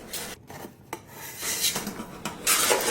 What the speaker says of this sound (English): and then we're going to depan it